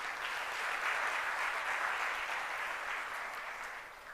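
Sustained applause from a room of about 43 graduates at an annual coaching graduation ceremony, a dense, steady wash of clapping that fades slightly toward the end.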